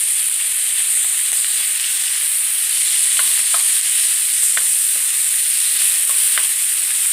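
Kidney and heart fat frying in a pan for a mixed lamb offal dish, giving a steady close sizzle with scattered small pops and crackles throughout.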